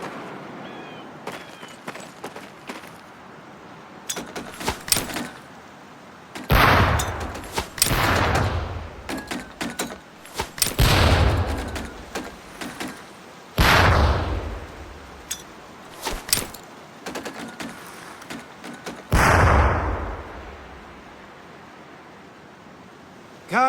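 Training grenades thrown at barrels in the Medal of Honor: Pacific Assault boot camp go off as several loud, close explosive bursts, each trailing a noisy rush, with quieter rustles and clicks in between.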